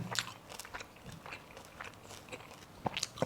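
Someone takes crunchy bites of cha-om omelette and eggplant with shrimp paste chili dip, giving a few close, crisp crunches and chewing sounds scattered across a short quiet stretch, with no talk.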